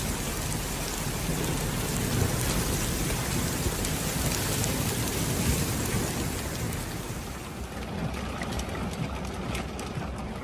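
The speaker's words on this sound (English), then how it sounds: "Today, Taif has witnessed moderate to heavy rain in parts of the province" Heavy rain pours steadily in Taif, a dense continuous hiss of drops on surfaces with a low rumbling undertone, close and loud throughout with no voices.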